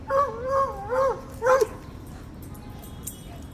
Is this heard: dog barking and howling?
yes